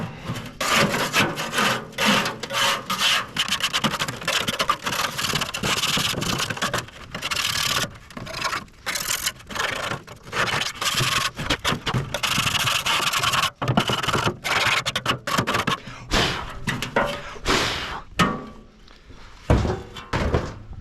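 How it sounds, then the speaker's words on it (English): A metal part of a Pit Boss pellet smoker is scraped clean by hand, giving close, loud rasping strokes in a fast, uneven rhythm that thins out and grows sparse near the end. "you probably should scrape the other side of this"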